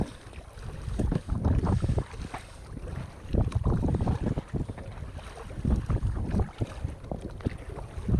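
Strong wind buffets the microphone while a kayak is paddled on the sea off the Capricorn Coast, loud gusty rumbling in uneven surges with water splashing mixed in and no talking.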